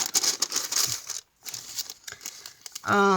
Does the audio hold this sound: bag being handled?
yes